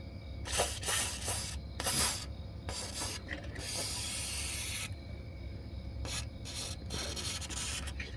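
Repeated bursts of aerosol lubricant spray hiss along the slide-out rail and flippers of a 2004 Country Coach RV, several short blasts and one longer sustained spray, close and loud with no talking.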